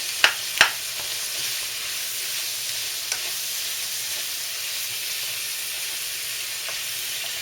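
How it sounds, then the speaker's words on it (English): Chopped vegetables and onions frying in a pan for a low-carb seafood soup, a steady soft sizzle with two sharp scraping stirs at the start and a few faint taps of the utensil later on. "let's get back to our veggies here and stir those bad boys"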